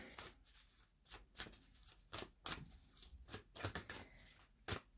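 Crystal tarot cards being shuffled and drawn, with a run of quick, close riffling bursts that come one after another and are fairly crisp, with no talk over them.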